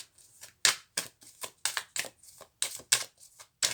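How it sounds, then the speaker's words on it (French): Tarot cards from a Templar deck are drawn and laid down one after another in a quick, uneven run of crisp slaps and snaps, close and clear with no talking. "je tire les 8 cartes"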